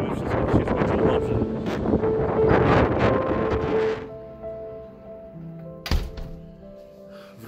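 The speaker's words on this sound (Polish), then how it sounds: "co znaczy sztorm nad Morzem Beringa. Woda, fale, wiatr, ogień." Gusting storm wind over the Bering Sea in Nome during Typhoon Merbok buffets the microphone loudly for several seconds, then eases into a quieter stretch broken by one sharp thump.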